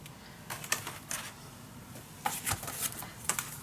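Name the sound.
cutting paper edges for a scrapbook mini album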